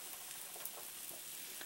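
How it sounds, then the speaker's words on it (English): Chicken milanese frying in a pan, a steady, close sizzle with fine crackling pops running throughout, no voices. "You can hear it kind of sizzling, toasting up."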